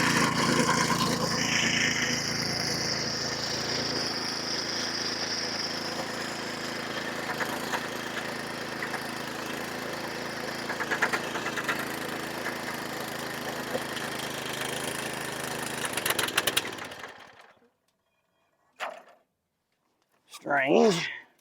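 A Cub Cadet lawn mower engine running just after refueling, a steady close rumbling idle for most of the stretch before cutting off, followed by brief speech in the quiet.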